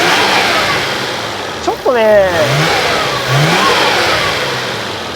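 A Nissan Skyline GT-R's RB26DETT engine runs at idle and is briefly blipped, a rising and falling rev swell over a steady mid-range hum, with a nearby voice speaking briefly.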